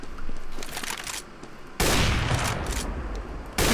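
Gunfire in Counter-Strike: Global Offensive, bursts of rapid shots with ringing echoes, a dense louder volley cutting in halfway and another starting at the end, close and sharp.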